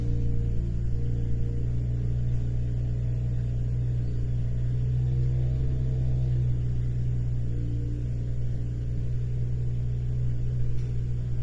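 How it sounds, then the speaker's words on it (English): A nearby car idles outside, a constant low rumble holding steady and fairly faint throughout with no voices over it. "don't know if you guys can hear that car."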